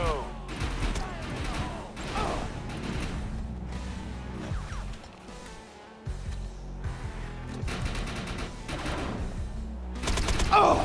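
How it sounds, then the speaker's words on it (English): Bursts of rapid gunfire from a video game crackle in clusters with pauses between, alongside other game noises and a voice now and then. "Gunfire."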